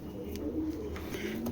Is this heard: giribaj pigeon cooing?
yes